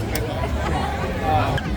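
Crowd chatter at the Holidays in the Park event in Burbank, a dense babble of many voices with a steady bed of background murmur, close and continuous, with no single voice standing out.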